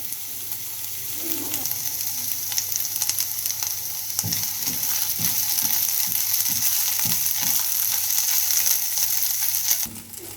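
Onions sizzling in hot oil, with a run of quick, rhythmic scraping and stirring clicks through the middle, then a sudden bump at the end.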